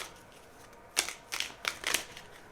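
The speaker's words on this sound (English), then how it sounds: "I started shuffling the book" Tarot cards are shuffled by hand in four short, crisp riffling bursts after a quiet start, close and fairly soft, with no talking.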